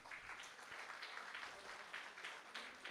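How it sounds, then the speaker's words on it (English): Quiet audience applause after a student music performance at a birth anniversary celebration, soft uneven clapping heard faintly in a hall. "a good round of applause"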